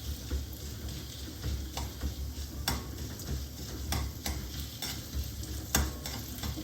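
Dry, crisp rustling and scraping as an ingredient is dry roasted and stirred in a hot pan, with light ticking clicks scattered throughout at a steady, close level.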